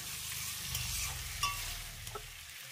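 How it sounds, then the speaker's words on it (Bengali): Fried eggplant and capsicum are stirred into masala in a pan over a medium-low flame, giving a soft sizzle under scraping spatula strokes and a few small clinks, fairly quiet with no speech. "গ্যাসের ফ্লেমটা মিডিয়াম টু লোতে রেখে এই মশলার সঙ্গে বেগুন আর ক্যাপসিকামটাকে ভালো করে মিশিয়ে দেবো।"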